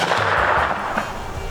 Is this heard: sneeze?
no